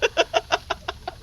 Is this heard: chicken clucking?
yes